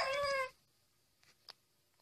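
A Minecraft wolf gives a short, high, whining yelp lasting about half a second, followed by near silence with a couple of faint, brief clicks.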